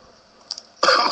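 A single person's cough bursts out suddenly at the end of a short quiet stretch, preceded by a faint throat sound, close to the microphone.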